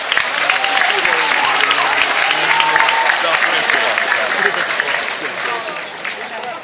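A crowd at an awards event applauds a group with loud, dense clapping that holds steady and then eases slightly toward the end, with voices mixed in.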